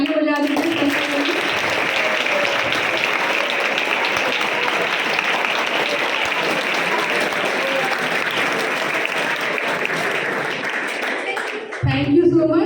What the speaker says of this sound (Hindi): आप प्लीज़ एक बार ताली बजा दीजिए।